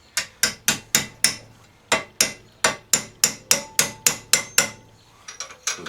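A hammer strikes a chisel to drive a bearing out of a Craftsman riding mower, a rapid series of about sixteen sharp metallic blows in quick bursts, close and loud, then lighter taps.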